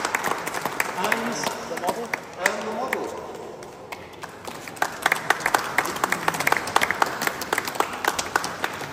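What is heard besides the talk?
audience applause for Accurascale 66190 model announcement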